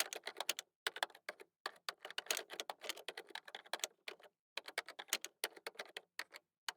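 Fast, irregular tapping of computer keys mixed with sharp mouse clicks, close and fairly quiet, in short bursts with brief pauses, no talking.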